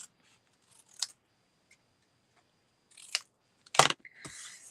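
Scissors snip through cardstock for a handmade card in a few separate, close, crisp cuts spaced apart by quiet gaps, the last cut longest and loudest.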